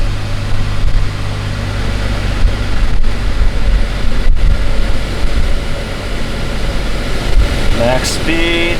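Jeep Wrangler JKU dashboard HVAC blower fan at max speed, a loud, steady airy rush with engine hum beneath it, ending in a few faint electronic beeps.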